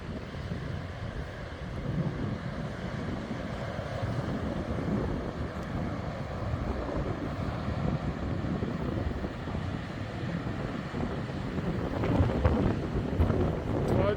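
Wind buffets the microphone on a beach at low tide, a constant rough rumble that swells louder near the end, with no clear talk.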